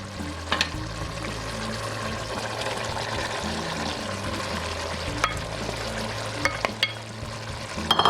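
Salt mackerel stirred into a simmering coconut rundown in a pot, a continuous bubbling, wet sizzle with soft sloshing and a few sharp clicks of a spoon against the pot.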